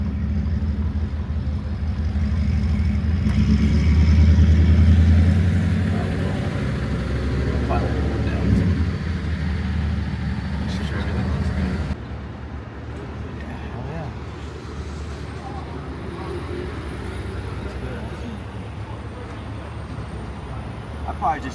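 A Whipple-supercharged Ford F150 truck engine roars with a deep, loud rumble that swells during a hard run, then drops to a quieter steady drone for the rest of the stretch.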